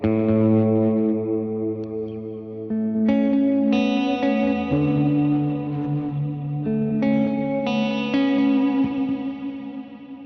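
Electric guitar through delay and reverb pedals plays sustained worship chords and lead notes, washed in heavy reverb and echoing delay, loud and continuous throughout.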